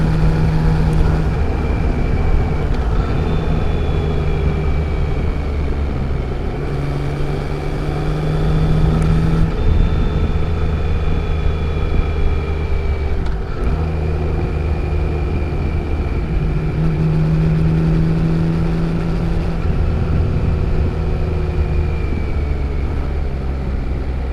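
A Yamaha XSR900 25th Anniversary motorcycle cruises in sixth gear on a road, its engine a steady, loud, low drone with wind rush that rises and eases slightly over a long stretch.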